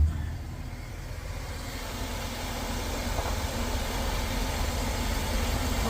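A 2000 Chevrolet Express 2500 van with an oil leak runs at idle, a steady low rumble with a broadband hiss, close and continuous, rising slightly in level over the few seconds with no talking.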